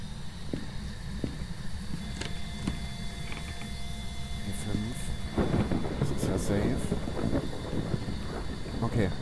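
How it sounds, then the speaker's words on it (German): Thunderstorm rain in the horror game Phasmophobia, a steady broadband downpour with low rumbling thunder beneath, continuous throughout and building slightly near the end, with voices talking over it. "Also es regnet doch."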